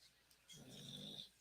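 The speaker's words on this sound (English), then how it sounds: "Y'all hear her snoring?" Nina lets out a single low, rumbling snore lasting under a second, very faint and close, set against near silence.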